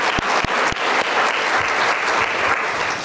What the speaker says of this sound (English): Let's give a round of applause for everyone.